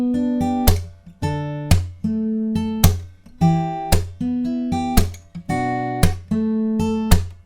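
A close, solo acoustic guitar plays the opening chord line of a song in a steady rhythm of strummed chords punctuated by sharp percussive slaps, repeating over several bars without any talking.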